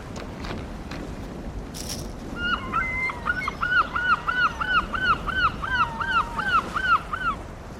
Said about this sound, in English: That's the seagull.